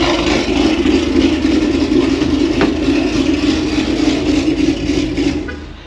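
Loud, lumpy idle from a Ford S550 Mustang with a choppy exhaust, a heavy steady rumble heard up close that eases off slightly at the very end.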